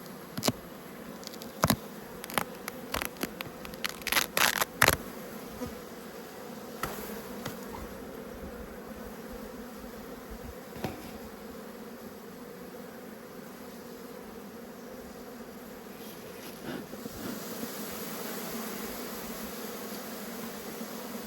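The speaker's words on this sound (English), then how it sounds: "so there's probably a lot of field bees in here as well." A dense, even drone of many honeybees in an opened hive in early morning hums continuously, with sharp clicks and taps early on and a faint high whine throughout.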